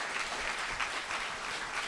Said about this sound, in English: let's give one more round of applause for Jane.